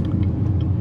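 Deep, steady idle rumble from a cammed Chevrolet Corvette Z06 engine, close and continuous with a low throbbing lope and no voices.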